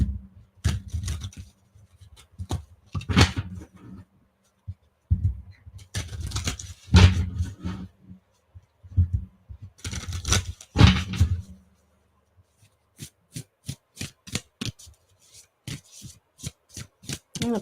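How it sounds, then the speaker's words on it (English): Tarot cards from a Christ Consciousness deck shuffled by hand, giving repeated bursts of riffling and rapid flicking that stop and start, ending in a quick series of sharp separate card snaps, close and fairly loud with no talking. "let's do some shuffling."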